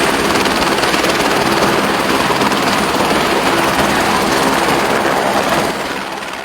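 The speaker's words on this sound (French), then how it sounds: "Vous voyez, l'hélico est déjà là." A military helicopter at a combat zone makes a loud, continuous broadband roar with rapid rotor chop, close and steady, fading slightly at the end.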